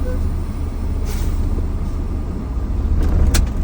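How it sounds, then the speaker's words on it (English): A vehicle's parking brake is tested with the engine running, giving a loud, steady rumble and a couple of brief hissing releases of air near the end. "Now I'm testing my parking brake."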